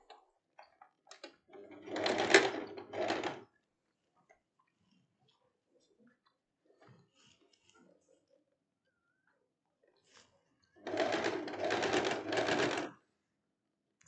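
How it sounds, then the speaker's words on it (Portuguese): A sewing machine stitches a seam through thin chiffon fabric, running in two short, loud bursts of rapid stitching separated by a long stretch of near silence. "Agora a gente vem passando uma costura."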